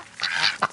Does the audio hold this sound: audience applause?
no